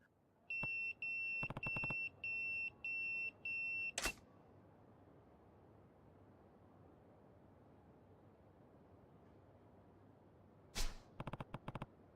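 Pager message alert in the video game Yakuza 0: a run of five evenly spaced electronic beeps rings out clearly, followed by a sharp click, quiet room tone, then another click and a rapid burst of short beeps near the end.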